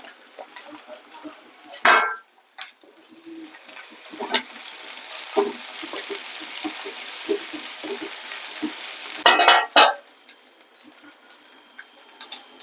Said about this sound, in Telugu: ఇప్పుడు దోరగా అల్లం వెల్లుల్లి పేస్ట్ ఉల్లిపాయలు తాలింపు అంతా బాగా దోరగా వేగింది కదా